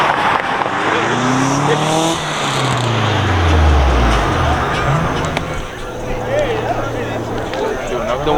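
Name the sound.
turbo street cars racing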